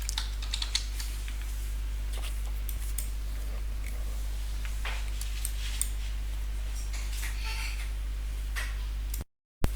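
Keys on a computer keyboard clatter in quick, faint, irregular taps as a password is typed, over a low steady hum, ending in a brief cut to silence.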